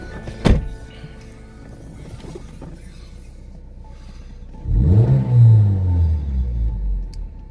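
A 2006 Mazda Miata MX-5 heard from inside the cabin, with a brief thump early on, then a subdued engine rev that rises and falls about halfway through, moderately loud, with no talking.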